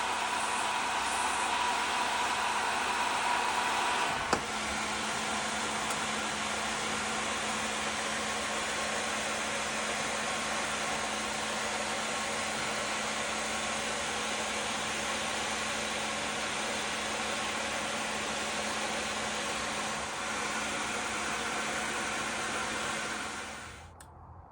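Heat gun blowing hot air at medium fan speed at about 1,000 degrees Fahrenheit for plastic welding, a steady close hiss and hum that runs unbroken for over twenty seconds before fading at the end.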